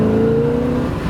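A 1972 Corvette's 454 big-block V8 revs hard as its 4-barrel carburetor kicks in, a loud, close, steady engine roar with a rising whine, heard alone for about a second.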